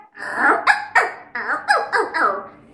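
A human voice imitates a dog, giving a run of rough, throaty barks and yelps in quick uneven bursts, close and fairly loud.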